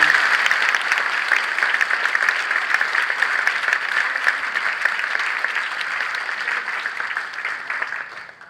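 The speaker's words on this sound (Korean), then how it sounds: "담임목사 옥성석 박수로 축하해 주시기 바랍니다." A church congregation at an anniversary ordination thanksgiving service applauds in congratulation, steady dense clapping that holds for several seconds and then tapers off at the end.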